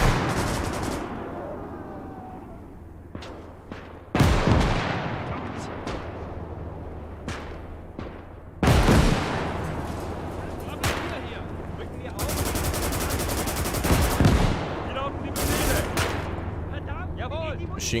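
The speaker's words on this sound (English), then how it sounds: "Machine guns fired for so long, he's out of ammo." Sustained machine-gun bursts and scattered gunfire from a WWII German conquest battle in the video game Gates of Hell, punctuated by several loud explosive blasts, with rapid automatic fire rattling continuously under a dense battlefield din.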